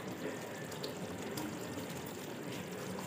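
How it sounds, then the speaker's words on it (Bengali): Water being poured into a pan for a fish curry, a steady, soft, continuous pouring rush at moderate distance with no talk. "জল ঢেলে দেবো"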